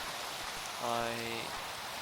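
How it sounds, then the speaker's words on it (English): Steady rain hisses evenly in a video game beside a potato farm, and a brief tonal hum rises above it midway through. "Something about the rain is just so annoying."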